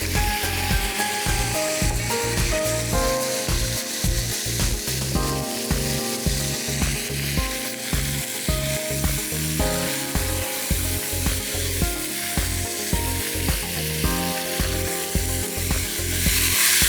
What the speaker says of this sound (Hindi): और फिर हम इसमें डालेंगे चिकन को डाल के अच्छी तरह